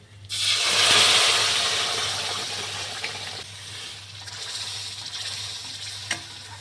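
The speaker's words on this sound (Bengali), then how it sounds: "এবার ডালটা ঢেলে দিচ্ছি" Moong dal pours into a hot pan of ginger paste and turmeric, bursting into a loud, bright sizzle that peaks early and then settles into a steady frying hiss with faint stirring scrapes.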